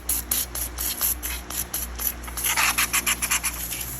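Rapid short hisses of PB Blaster penetrating oil sprayed from a can onto rusty header bolts of a 2015 Mustang V6, a rhythmic series of close, bright spritzes with no talk.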